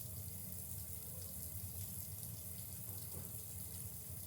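Hot water runs steadily from a tap into a sink, a continuous close splashing rush that stays even and unbroken throughout.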